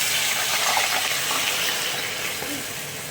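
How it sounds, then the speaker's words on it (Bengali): Shredded potato frying in hot oil gives a dense, steady, loud sizzle with fine crackling, continuous throughout and easing off slightly toward the end. "ভাজা আলুটা ঢালা হবে ভাজার জন্য।"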